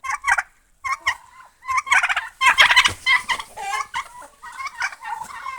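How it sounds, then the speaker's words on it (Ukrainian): Turkeys gobble loudly and repeatedly, a chorus of rapid warbling calls overlapping one another, close by, with brief gaps between bursts. "Бачите, до індиків нема чого додиратися."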